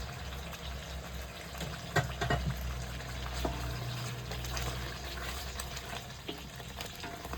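Water pours into a hot pan of frying spices and yogurt for chicken mughlai, sizzling and bubbling steadily with a few sharper pops and clinks, close by.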